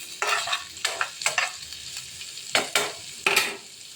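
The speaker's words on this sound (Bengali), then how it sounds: "একটু নুন দিয়ে পেঁয়াজটা ভাজতে বসিয়ে দিয়েছি" Onions with salt frying in a pan, a low sizzle broken by repeated sharp scrapes and clatters of a spatula at irregular intervals, close and without speech.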